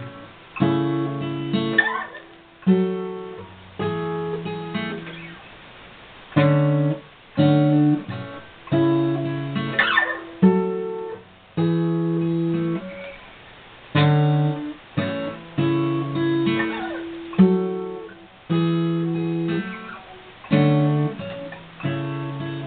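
Acoustic guitar picking a chord riff, a repeating pattern of arpeggiated chords with short pauses between phrases, close and clear with no talking.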